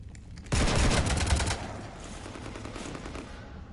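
Rapid automatic gunfire hitting a ship in a sci-fi video game, a loud burst of machine-gun shots lasting about a second, then a lower sustained rumble.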